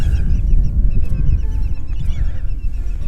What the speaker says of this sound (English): Birds just flew away.